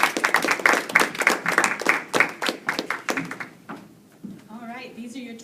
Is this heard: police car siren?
no